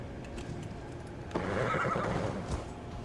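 A horse's whinny in the video game Assassin's Creed Valhalla breaks out partway through, a shaky, wavering neigh over a constant low background rumble, fairly faint overall.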